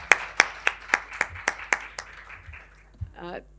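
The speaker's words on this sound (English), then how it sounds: "can we have a round of applause for them?" A small audience claps at a talk event, with a handful of distinct, evenly spaced claps that thin out and fade, followed by a brief voice.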